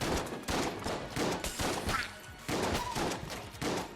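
Enemy shotguns blast repeatedly in Enter the Gungeon, a rapid run of punchy bursts layered over busy game sounds and music, loud and close with no pauses.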